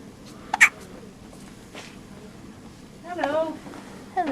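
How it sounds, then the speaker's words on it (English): A sleepy baby girl with the hiccups gives a couple of sharp hiccups close by, followed by a soft breathy vocal sound and another brief hiccup at the end. "She's got the hiccups at the moment."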